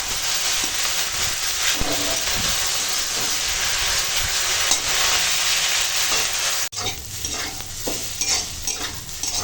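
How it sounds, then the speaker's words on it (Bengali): Pumpkin greens cooking in a pan, a dense continuous sizzle and hiss with the scrape of stirring throughout, close and loud, briefly cut partway before the frying noise resumes. "এখন কুমড়ো শাকটাকে রান্না করে নেব"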